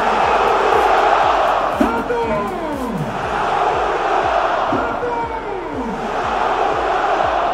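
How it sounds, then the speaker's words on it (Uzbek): Thousands of football fans at Stadio Olimpico chant Shomurodov's name, a loud, sustained crowd roar with rhythmic swelling calls rising and falling in waves. "Minglagan muxlislar Olimpico stadionida Shomurodov deya hayqirib, o'zbekistonlik gladiatorni olqishladi."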